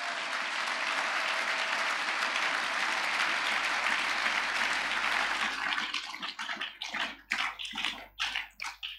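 A church congregation bursts into loud, dense applause and cheering that fills the room steadily, then breaks into scattered, rhythmic clapping bursts as it winds down.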